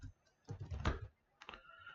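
A command is typed on a computer keyboard: a quick run of soft, close key clicks, a short pause, then a few more keystrokes, with no talk.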